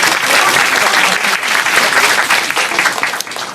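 A live audience at a Korean televised youth forum with the president claps in steady, dense applause that fills the room throughout, loud and close.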